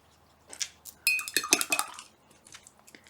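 Orange and purple acrylic paint are worked together on a palette with a tool, giving a burst of close, irregular tapping and scraping clicks that fades to quieter dabs.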